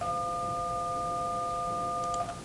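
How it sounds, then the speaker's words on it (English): Two pure sine tones sound together like a phone keypad button, a steady combined DTMF-style beep held for a couple of seconds before cutting off, with no speech. "there's two tones they are played at the same time"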